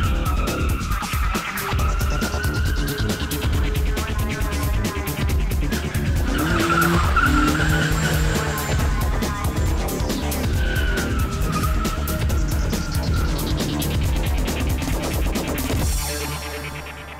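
A car drifts at a drift school, with loud continuous tire squeal and skidding over engine noise throughout, briefly fading near the end.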